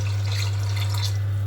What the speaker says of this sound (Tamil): 3 உலக்கு தண்ணி ஊற்றிக்கலாம்